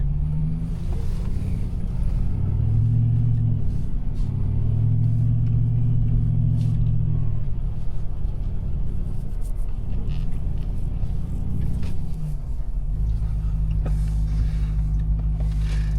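A car on a mountain trail heading toward a beach, with a steady low engine rumble and drone that shifts in pitch now and then, close and continuous, with no talking.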